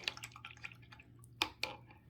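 Water being brushed onto a watercolor painting during an art lesson: a few soft, wet dabs and drips, two of them sharper, heard close and quiet over a low steady hum.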